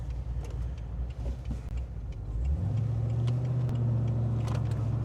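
A car fitted with a Chopper Reid camshaft and CNC cylinder heads drives along, its engine note low and lumpy before rising into a louder, steady drone partway through.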